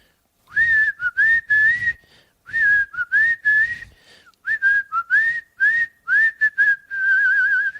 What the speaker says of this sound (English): I'm going to do the whistle for you right now.